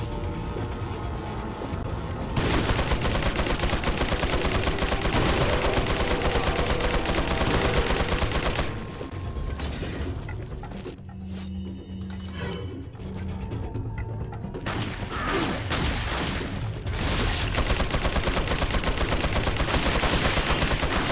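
Gunfire in the Resident Evil 4 video game, dense and continuous for most of the stretch, with a quieter dip in the middle before the loud shooting and mechanical clatter resume.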